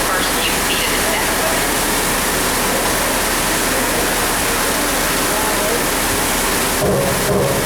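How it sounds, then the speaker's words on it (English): Water nozzles spray a crisscross rain effect just above a theme park tram on a backlot tour, making a loud, steady, close hiss like a heavy downpour that continues throughout. "We rigged up a series of water nozzles just above your tram. The water sprays in a crisscross pattern to create a sense of depth"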